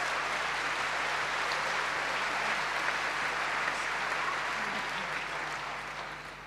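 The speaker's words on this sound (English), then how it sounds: "Keith, give Keith a big round of applause." An audience at a Spring Harvest Christian event claps for a man walking out on stage, loud, sustained applause from a large crowd that holds steady and then slowly begins to fade.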